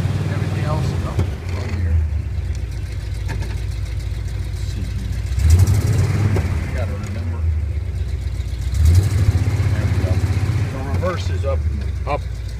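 1972 Jeep CJ5 Renegade with a 304 V8 drives along, its mid-pitched engine drone swelling as it accelerates and dipping at gear shifts, close and steady throughout.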